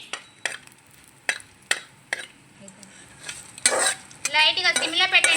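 Coriander and cumin seeds dry-roasting in a pan for tomato rasam: scattered scrapes and clinks of a spoon stirring, followed by a louder, close crackling sizzle toward the end.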